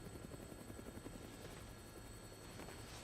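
A helicopter in the Dead Rising game flies overhead, its rotor throbbing in a continuous loud, close, rhythmic beat with a constant engine whine over it.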